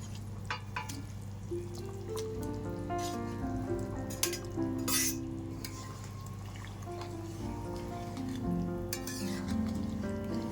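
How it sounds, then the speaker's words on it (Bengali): Fried eggs, potatoes and cauliflower going into a boiling egg curry: a steady sizzle and bubbling simmer runs throughout, with occasional clinks of a spoon against the pot. "ঝোল ভালো করে ফুটে উঠেছে এবার ভেজে রাখা ডিমগুলো দিয়ে দেবো একই সাথে আলু ফুলকপিও দিয়ে দেবো"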